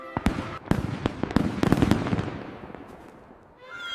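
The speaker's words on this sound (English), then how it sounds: "I've never seen fireworks this bright." Cartoon fireworks burst in a rapid cluster of sharp cracks and pops, loud at first, then thinning into a fading crackle with a faint tonal swirl at the end.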